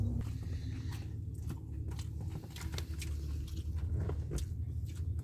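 Close, low eating sounds of Atho noodles mixed with a crunchy fried mixture at a street noodle shop, with soft biting and chewing over steady background hum and no talk.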